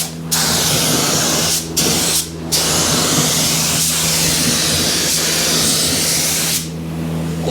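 A compressor-driven spray gun hisses loudly and steadily as car paint goes onto a deck lid, with a few brief pauses between passes and a compressor hum underneath.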